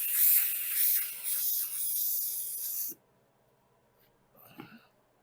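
Aerosol spray hissing steadily onto a VW Beetle custom door panel for roughly three seconds, then cutting off to near silence, followed by a faint brief rustle.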